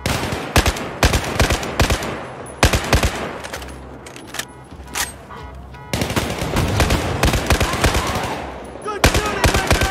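Rapid machine gun bursts and scattered gunfire crack loudly and repeatedly in Battlefield 4 combat in the South China Sea, with brief pauses between volleys and a voice calling out amid the shooting.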